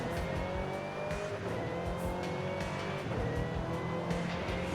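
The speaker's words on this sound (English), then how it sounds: "Oh my god, listen to that supercharger." Supercharged V8 of a 2003 Ford Mustang SVT Cobra "Terminator" in the Forza Horizon 5 racing game, with a loud, continuous engine roar and a high supercharger whine that rises and falls as the car accelerates, heard up close.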